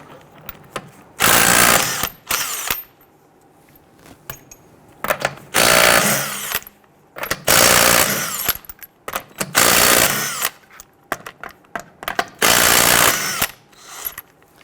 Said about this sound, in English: Using a 21mm socket, go ahead and loosen and remove your lug nuts.